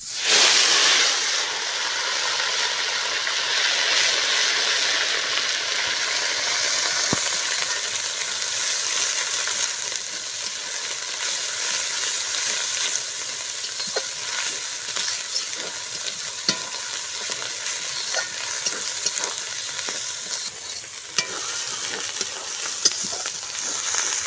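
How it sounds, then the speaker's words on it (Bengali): Ground spice paste frying in a pan with bay leaf and whole garam masala gives a loud, sharp hiss on contact that settles into a steady sizzle, with occasional stirring scrapes and no talking. "এবার বেটে রাখা মশলাটা দিয়ে দেব।"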